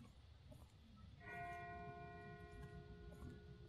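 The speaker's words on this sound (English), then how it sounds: "That's not the same bell as before. This one's further off." Church bell ringing far off in the zombie game The Walking Dead, a faint single tolling with a long sustained ringing decay over quiet ambience, no talk.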